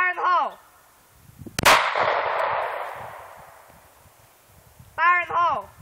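A single sharp, loud crack from a 9mm Glock 19 pistol at an outdoor range rings out with a long fading tail, while a voice speaks shortly before and after the shot.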